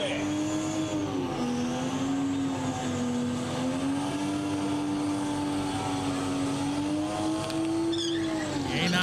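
Toyota Supra race cars at a drag race, their engines droning loud and sustained with a rising and falling pitch across the whole stretch.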